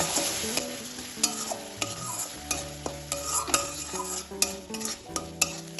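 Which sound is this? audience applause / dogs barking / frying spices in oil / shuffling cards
frying spices in oil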